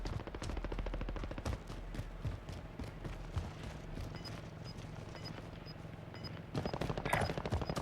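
Gunfire in Call of Duty: Warzone, with rapid automatic bursts and single shots crackling almost continuously for several seconds, fairly quiet and distant in the mix, and a louder flurry near the end.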